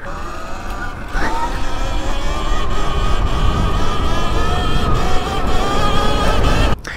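A 72v Segway X260 electric motorbike pulls a wheelie. A steady, loud electric motor whine rises in pitch over several seconds over a rough rumble of wind and tyres, then cuts off abruptly near the end.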